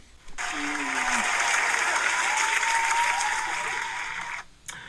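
Applause greets guests arriving on stage at a live talk show, a loud, sustained wash of clapping with whoops and cheers, fading as it ends.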